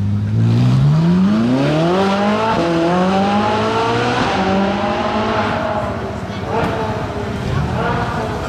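A car braking hard for a red light on a city street, its engine pitch climbing and then dropping in steps as it downshifts, close and loud, with voices in the background.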